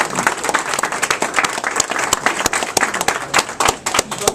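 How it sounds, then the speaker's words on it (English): An audience at a lunch gathering applauds, a dense, steady patter of many hands clapping at close range that carries on throughout without a break. "I don't want to get another round of applause"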